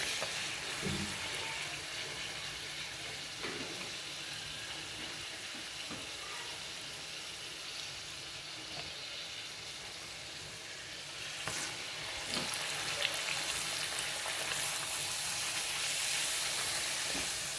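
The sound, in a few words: puris deep-frying in oil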